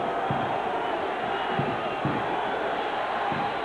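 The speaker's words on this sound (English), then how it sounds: "Iowa's trying to get its crowd to get behind them." A home crowd of Iowa Hawkeyes fans roars in a rainy college football stadium against Indiana, a broad, sustained wash of cheering and shouting with a few dull thumps.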